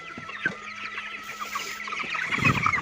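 Chickens cluck continuously on a poultry farm, a dense chorus of overlapping clucks and squawks at close to middle distance, getting slightly busier toward the end.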